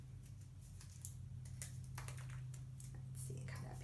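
Scissors cut paper figures, a chain of little people shapes including their legs, with faint, irregular snips and clicks over a steady low hum.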